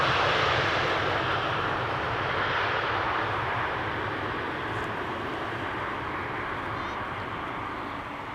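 An Eastern Airways airliner arrives at Amsterdam Schiphol, its engine roar broad and steady for the whole stretch, fairly loud and slowly fading toward the end.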